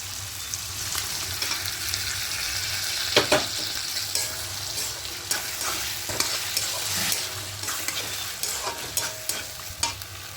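Boiled mung dal tipped into a pan of well-sautéed chicken and stirred, giving a steady sizzle with scattered scraping clicks of the spatula, close and fairly quiet, with no talking.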